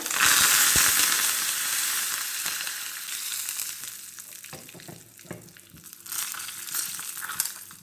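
Asafoetida, dried red chillies and curry leaves hit hot oil in a pan for papaya and bottle gourd curry, giving a loud, steady sizzle with crackling pops that eases slightly and then swells again.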